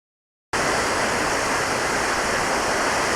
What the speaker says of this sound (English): we're down here at the river